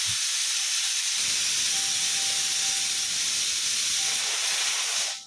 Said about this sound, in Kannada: 2 ವಿಷಿಲ್ ಬಂದಮೇಲೆ ಆರೋದಕ್ಕೆ ಬಿಟ್ಟಿದ್ದೀನಿ